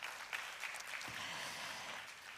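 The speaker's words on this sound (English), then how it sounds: "Please give them another big round of applause." Applause from the audience for panel discussants at a plenary session of a defense dialogue conference, a faint, steady wash of distant clapping throughout.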